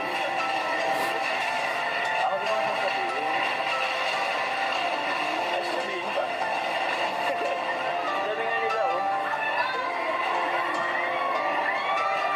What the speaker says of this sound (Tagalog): Rinig na yung sigawan ng mga supporters